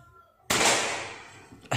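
A Predator Tactical air rifle fires at a target 30 meters away, a single loud sharp crack that fades through the next second, then a second sharp onset cuts in at the end.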